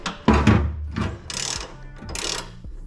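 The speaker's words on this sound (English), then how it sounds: "a ratchet." A ratchet clicks as it tightens the steering damper bolt on a VW Super Beetle, a few close, uneven bursts of mechanical clicking and clanks with no voices.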